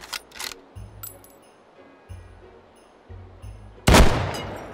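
Gunshots in the VR shooting game H3VR: several sharp, close reports spaced irregularly with metallic clicks and clinks of handling between them, ending in one louder blast.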